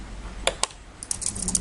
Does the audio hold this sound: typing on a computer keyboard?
yes